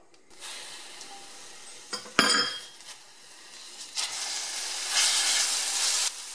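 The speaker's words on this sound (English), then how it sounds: "Add your cooking oil to a pan over a medium heat and begin by browning the onions and garlic together" Onions and garlic go into hot cooking oil in a pan over medium heat, with a sharp clatter of the pan, then a soft hiss that swells into a louder, steady sizzle near the end.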